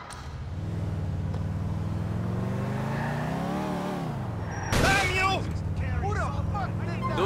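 Engine of a car driven by Niko Bellic in Grand Theft Auto IV, a steady rumbling drone that rises and falls, with talk over it and a burst of sound partway through.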